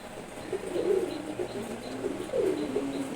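Pigeons, including a female hen that has stopped laying, give two distinct rolling coos a moment apart over a soft steady background, near and moderately loud, with no voices.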